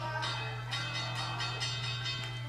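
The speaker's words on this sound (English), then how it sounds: "the bell rings for a draw" A bell rings to end a professional wrestling match in a draw, a steady faint ringing with repeated soft strikes over a low constant hum.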